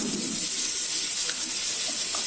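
Seer fish (vanjaram) slices frying in hot oil in a pan, a steady bright sizzle and hiss that runs unbroken and fairly loud, close to the pan.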